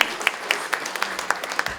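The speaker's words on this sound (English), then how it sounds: "Please, round of applause, please." A crowd applauds at a charity ball, with scattered sharp claps over a dense, steady patter that carries through the whole moment.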